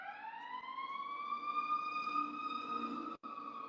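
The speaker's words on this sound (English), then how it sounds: "ambulance going by" A wailing emergency siren, from an ambulance or fire truck, rises slowly and holds in a steady tone at moderate distance, sounding alone with faint background noise and a brief dropout near the end.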